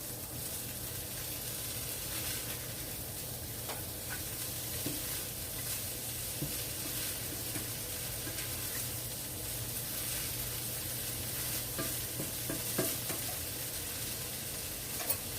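Corned beef and hash browns sizzle steadily in a pan, a constant close frying hiss broken by scattered scraping stirs of a utensil throughout.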